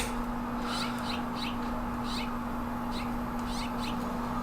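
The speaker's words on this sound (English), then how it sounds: "These birds are just like, yip, yip, yip, yip, yip, yip, yip, yip." Birds right outside a window give short, sharp repeated chirps in scattered bursts, fairly faint beneath a steady electrical hum and room noise.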